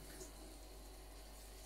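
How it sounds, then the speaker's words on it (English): A spoon is rinsed under a running kitchen tap, a steady soft rush of water lasting only a moment. "Spoon a quick wash"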